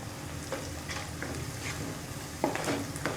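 Onions frying until light golden for mutton keema make a soft, steady sizzle with a few spoon-stirring scrapes, one louder clink near the end, all fairly quiet.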